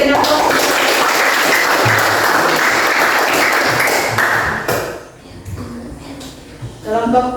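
Classroom applause from a group of students in a lesson, a dense steady clatter of many hands that fades out near the end, with some voices starting up as it dies down.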